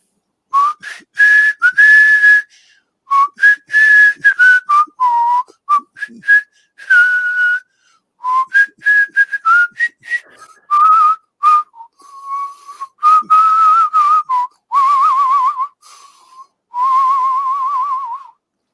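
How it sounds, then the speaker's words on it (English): A person whistles a lively tune in short, clear phrases with brief pauses, close and loud, with no talking. "That's a mighty fine whistling."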